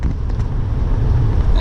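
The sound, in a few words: Banks Derringer L5P Duramax truck towing a trailer uphill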